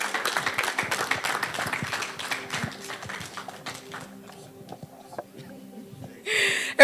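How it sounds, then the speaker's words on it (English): An audience at a startup pitch competition grand finale claps in a dense, lively burst that thins out and fades over several seconds, leaving scattered claps before a short noisy burst at the very end. "A round of applause for Mr."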